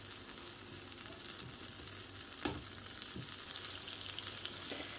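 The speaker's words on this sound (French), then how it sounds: "Là, j'ai un peu de beurre, à peu près une cuillère à soupe. J'avais oublié de mentionner tout à l'heure. Je vais faire fondre ce beurre." About a tablespoon of butter melting in a pan for a béchamel sauce, sizzling and crackling steadily throughout with occasional small pops and clinks.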